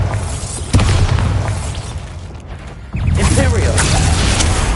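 Bombarda spell explosion in a video game, two heavy booming blasts with a sudden onset, loud and close, with a voice shouting over the noise.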